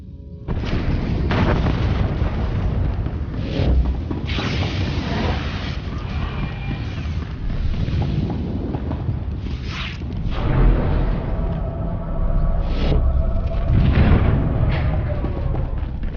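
Repeated heavy booms and blasts of enemy fire rock a starship bridge in Star Wars: The Old Republic, loud and continuous, with rumbling impacts layered throughout.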